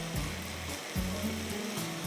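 Balti mutton with potatoes sautéing in a pan with ginger, garlic, red chili, salt, turmeric and garam masala, giving a steady, fairly soft sizzle and hiss that runs without pause.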